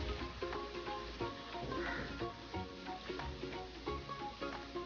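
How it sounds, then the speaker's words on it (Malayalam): Chicken pieces deep-frying in oil for a Kerala-style chicken curry, a steady close sizzle and crackle running throughout with occasional clinks of a utensil stirring in the pan. "അപ്പോൾ നമ്മൾ ചിക്കൻ മുഴുവനും വറുത്ത് കോരിയെടുത്തു."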